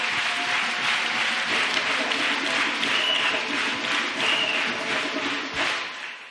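Audience applause and cheering acclaiming Jesus Christ at a church deliverance gathering, a dense, steady roar of clapping from a large crowd that carries on for several seconds before easing off slightly at the end.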